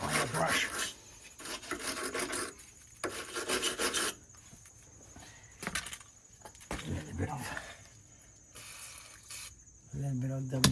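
Stiff brush scrubbing around the engine mount area of a Mercedes W126 S-Class, repeated close rasping strokes in bursts with short pauses between them.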